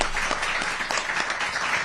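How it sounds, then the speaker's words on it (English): Audience at a Florida property tax relief press event claps briefly, a dense, even patter of many hands at moderate loudness heard alone. "I'm sure the clapping was for him"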